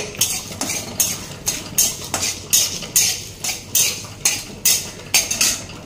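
A spatula scrapes and stirs fennel seeds and spices frying in a pan, giving a steady, rhythmic series of close metallic strokes roughly twice per second.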